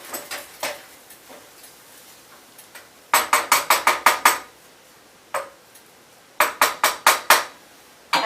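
Metal utensil taps and scrapes against a pot while cooked quinoa is fluffed, with bursts of quick, sharp, close clinks in rapid runs separated by quieter pauses.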